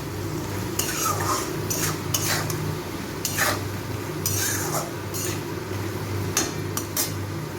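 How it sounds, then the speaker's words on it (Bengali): Spices for potol kopta getting mixed in a hot pan, soft sizzling beneath repeated scraping and clinking strokes of a spoon against metal at an irregular pace, close by and with no talking. "এগুলো সব একটু মিশিয়ে দেব।"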